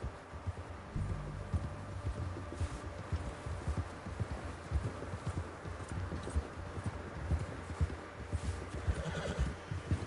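A horse in the video game Red Dead Redemption 2 clip-clops steadily along and lets out a whinny, with the hoof beats quiet and even throughout.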